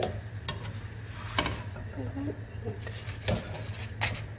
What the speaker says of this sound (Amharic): ገልበጥ እያደረጋችሁ መጥበስ ነው።